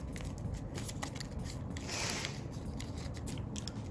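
Quiet, close handling of paper as a sheet is folded in half for an origami goose: low, continuous rustling with one brief swell of scraping crinkle midway and no voices.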